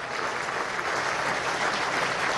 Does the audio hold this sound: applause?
yes